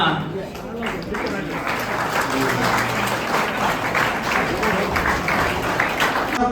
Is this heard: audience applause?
yes